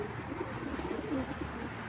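Racer pigeons coo in a low, steady murmur, several soft throaty calls overlapping at moderate volume, with no talking.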